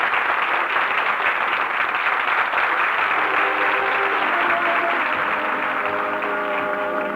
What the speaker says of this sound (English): Listen to them applaud.